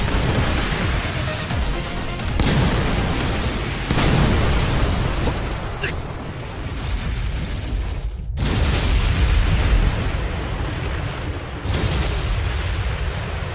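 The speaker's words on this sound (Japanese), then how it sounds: "ミサイル発射。" A missile launch in an anime, heard as a dense, roaring rumble that swells and falls in several long surges with a sharp break near the middle, and a voice speaking over it.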